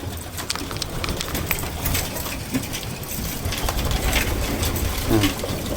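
Racing pigeons in a loft feed hungrily, their beaks pecking grain in a dense clatter of rapid taps, joined by a few soft coos and fluttering, close and busy throughout.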